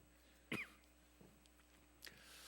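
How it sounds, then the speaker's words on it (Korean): One sharp, close cough, followed by a faint throat sound and a second, softer cough in a quiet room. "제가 잠시 기침 한번 하겠습니다."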